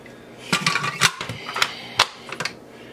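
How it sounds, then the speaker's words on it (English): A food processor lid being fitted and locked into place for guacamole makes a quick series of sharp plastic clicks and clacks, close and loud, with several distinct snaps over a few seconds. "I'm going to get this lid locked"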